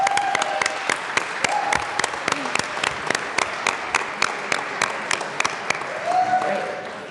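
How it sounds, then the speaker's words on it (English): Applause in the Colorado House chamber for state and national soccer champions, a sustained burst of many hands clapping with sharp individual claps standing out over a dense, even wash throughout. "Another round of applause for our state and national champions"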